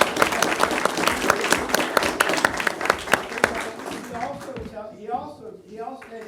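Brief applause from a small audience at a city work group meeting in Portland, scattered claps for the caterer that fade out after a few seconds as a voice begins talking.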